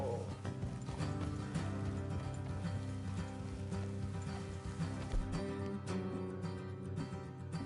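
Horse hooves clip-clop steadily in Red Dead Redemption 2 amid a dense wash of game music and ambient noise, with a brief whinny-like sound near the start.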